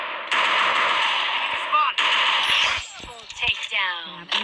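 Rapid video-game gunfire as enemies are finished off with headshots in a match against bots, loud sustained automatic bursts that break into shorter shots and metallic clinks toward the end, with a voice speaking over it.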